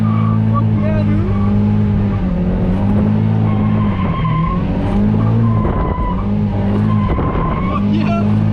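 Drift car sliding through a street drift, its engine roaring loud and steady with tire squeal and skidding layered throughout, close and continuous, while people shout excitedly nearby.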